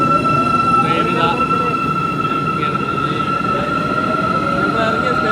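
A Cairo metro train idles or moves at Bab El Shaaria station, a steady electric whine with a constant tone over rumbling rail noise and faint squeals.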